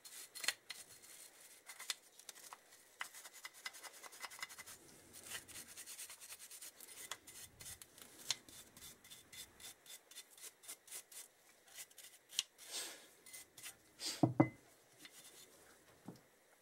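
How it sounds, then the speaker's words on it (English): A wire brush scrubs a Kawasaki Z1000 rear brake caliper in short, irregular scratchy strokes, faint and close, with small metallic clinks between bursts and no speech. "wire brush"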